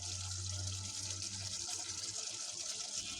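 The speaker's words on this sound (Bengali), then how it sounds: "এখন আমি হালকা করে একটু পানি দিব।" Water is poured into a pot of browned mutton being cooked for khichuri, a steady gushing trickle close up over a low hum, with no talk.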